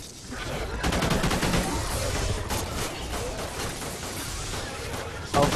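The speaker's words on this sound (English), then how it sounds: "I'm getting shot to death" Rapid automatic gunfire from Call of Duty Ghosts multiplayer in Beast Mode rattles almost continuously, loud and dense, with a heavier burst near the end.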